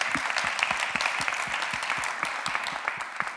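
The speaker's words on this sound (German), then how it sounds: "Ihr Applaus." An audience claps steadily, a dense patter of applause with sharper individual claps standing out, continuing without a break.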